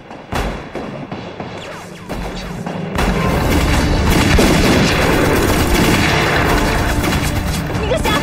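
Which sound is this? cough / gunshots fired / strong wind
gunshots fired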